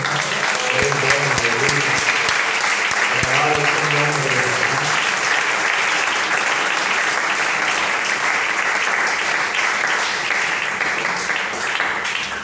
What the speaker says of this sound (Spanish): ¿Usted no cree que se merece un aplauso esta noche?